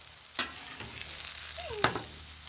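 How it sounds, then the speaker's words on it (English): Vegetables sizzle on a Blackstone griddle in a steady, close hiss, broken by two sharp metallic clacks of a spatula against the cooktop. "This is griddling."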